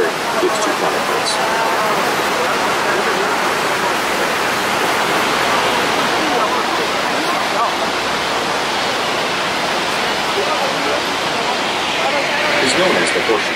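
Niagara Falls heard from a cruise boat near the Horseshoe Falls, a loud, steady, close roar of crashing water that holds without a break throughout, with a voice speaking faintly beneath it.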